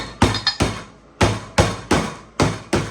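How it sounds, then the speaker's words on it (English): A cake pan full of thick vanilla butter cake batter is knocked on a tabletop, giving about seven sharp, close thuds in an uneven rhythm. Each hit is crisp and loud and rings out briefly, with no talking. "you must hit this on the table gently"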